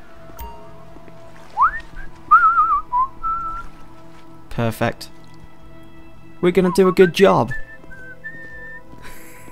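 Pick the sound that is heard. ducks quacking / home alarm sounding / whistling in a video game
whistling in a video game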